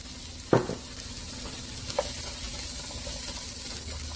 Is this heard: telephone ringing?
no